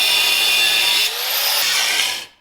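Power tool or saw cutting through a rat rod dashboard to make a gauge mount hole, a steady loud grinding rasp that shifts pitch midway and stops abruptly at the end.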